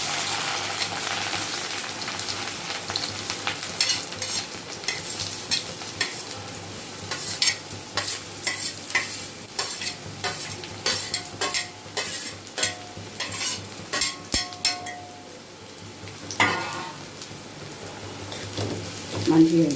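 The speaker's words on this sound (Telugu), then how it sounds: "నూనె కాగిందండి. ఇప్పుడు ఈ కాకరకాయలు వేసేసుకున్నాము." Bitter gourd pieces frying in hot oil in a pan, a steady sizzle with repeated stirring scrapes and clatters throughout, close and fairly loud.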